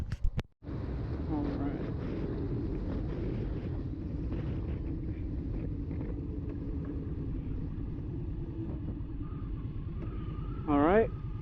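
On a first test ride, an Indian Scout motorcycle settles into a low, steady engine rumble mixed with wind buffeting after a brief start, with a rising whine near the end.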